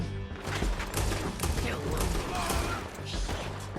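A town gunfight plays out in Red Dead Redemption 2, with rapid overlapping gunshots crackling in a steady loud barrage while voices shout amid the shooting.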